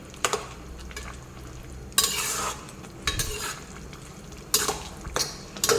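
Crushed garlic tempering sizzling in hot oil for a greens curry, bursts of crackling spatter in several loud surges with quieter gaps and faint clinks of a spoon against the pan, no speech.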